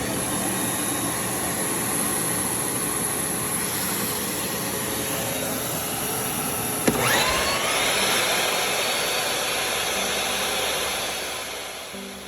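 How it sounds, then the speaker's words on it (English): A dust collector vacuum powered by a backup generator, a loud, steady airy roar running continuously from near, with a brief knock midway and a slight dip in pitch toward the end. "Dust collector. Some folk call it a vacuum."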